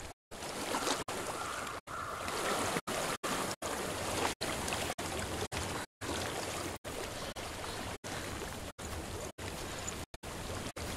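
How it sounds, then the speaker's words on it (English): Flowing stream water, a steady broadband rush that runs continuously, heard alone with no voices. "I hear water."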